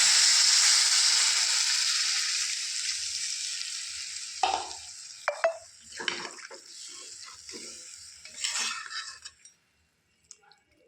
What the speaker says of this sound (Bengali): দেখো, আমার কষা হয়েই গেছে, এবার আমি জল দিয়ে দিচ্ছি।